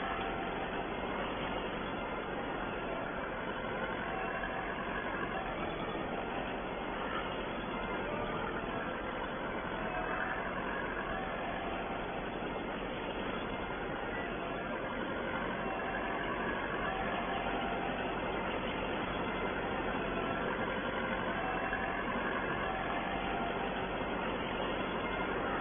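A four-wheel drive farm tractor engine runs steadily throughout, a continuous low, rumbling drone at moderate distance with no breaks and no voices.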